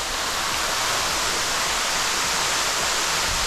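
Waterfall along a hiking trail, a steady, dense hiss and roar of falling water that stays even and loud throughout, with no talking over it.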